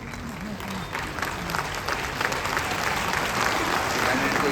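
An audience at a political celebration event in Delhi applauds with steady, dense clapping throughout, while a voice speaks over it.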